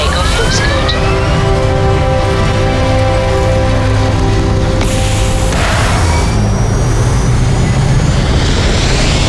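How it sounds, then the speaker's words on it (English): A spaceship lifts off in Starfield, its engines roaring loud and continuous with rising tonal whines and a heavy rumbling boom partway through. "We are ready to depart. Pressure holding. Takeoff looks good."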